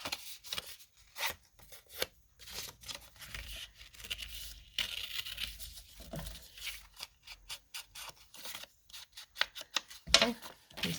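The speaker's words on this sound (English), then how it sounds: "I'll have to tear another piece this size." Paper being torn by hand while crafting, with a series of short ripping and rustling bursts spread across the moment, close up and fairly quiet.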